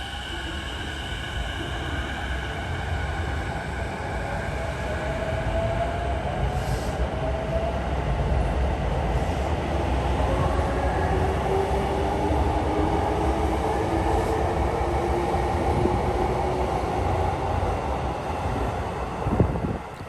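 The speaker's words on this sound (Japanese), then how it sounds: "お世話になった列車をお見送り" A train pulls out of Shin-Narashino station, its rumble and rattling wheels building into a steady roar as it gathers speed past the platform, with faint whining tones and wind buffeting the microphone.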